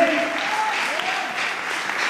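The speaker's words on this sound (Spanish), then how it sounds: "¿Le puede dar esas palmas al Rey?" A church congregation claps for the King during a sermon, a continuous dense burst of applause filling the hall, with faint voices mixed in.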